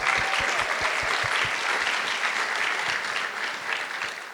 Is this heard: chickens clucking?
no